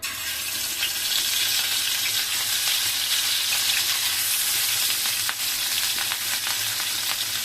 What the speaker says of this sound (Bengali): তেলটা গরম হয়ে আসছে, এখন আমি মাছগুলা দিয়ে দিব।